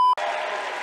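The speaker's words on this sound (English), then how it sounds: "I don't think I've ever introduced anybody that got applause like that." An audience bursts into applause after a brief tone, a short steady wash of clapping heard close and alone.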